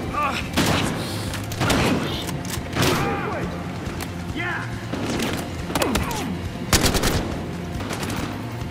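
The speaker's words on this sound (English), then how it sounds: "I'm getting shot from each and every way." Gunfire in Battlefield Hardline: repeated sharp shots and short automatic bursts from several directions, loud and close, with booming thuds and a voice speaking over the firefight.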